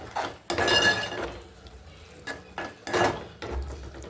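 A spoon clinks and scrapes against a cooking pan while tomatoes are stirred for a Telangana-style tomato dish with dry prawns. The clatters come in a few separate bursts with quieter gaps between them.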